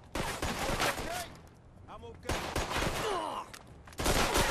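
Enemy pistol gunfire in the Mafia 2 video game, several sharp shots in quick clusters with gaps between them, loud and close, with a person talking over parts of it.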